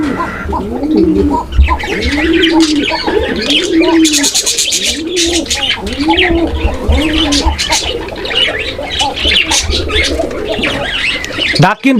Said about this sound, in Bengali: এই যে দেখেন কোকা ডাক কিন্তু